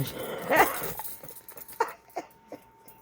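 A dog whimpers near the microphone, then gives a few short, separate yips or barks with pauses between them, fairly close and moderately loud.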